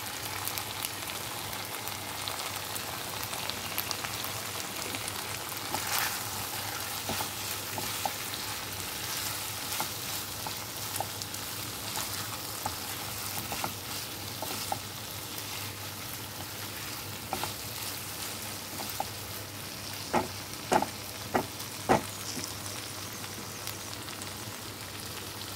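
Fried okra and halved green chillies sizzle in a pan, a steady close hiss and crackle that runs throughout, with several sharp clacks of a utensil against the pan near the end.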